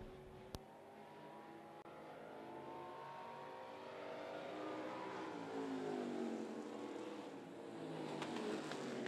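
Street stock race cars at a short-track speedway engine main event, engines droning and revving steadily at moderate distance, rising and falling as the field circles, with no talking.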